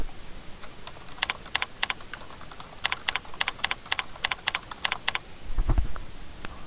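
Quick, light keystrokes on a computer keyboard while entering a username and passphrase to log in, tapping in uneven bursts with short pauses and a soft thump near the end.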